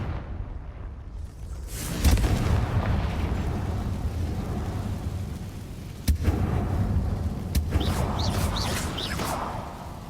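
A Confringo fire spell explodes in the Hogwarts Legacy video game, a sudden loud blast followed by a sustained roaring rumble and a second sharp burst a few seconds later.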